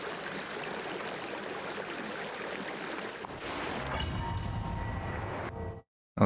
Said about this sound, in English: Oh, that sounds like a domain opening.